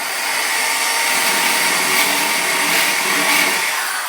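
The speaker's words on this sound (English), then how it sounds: "now we're grinding off the high area." Steady, harsh high-pitched grinding of an abrasive grinder against a Mustang Cobra's steel body, continuous and close for the whole stretch with no pauses.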